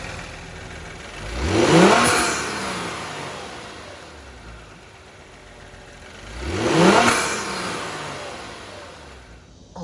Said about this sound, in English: So let's go ahead and rev it up a few times and see what these intakes sound like.